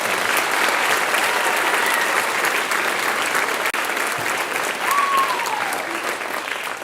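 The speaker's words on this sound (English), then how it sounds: "Let's give everybody who performed tonight another round of applause." A school spring concert audience at a middle school gives a sustained, dense round of applause that fills the hall at steady loudness, with a faint voice briefly audible near the end.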